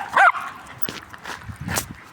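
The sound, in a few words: dog whining on a walk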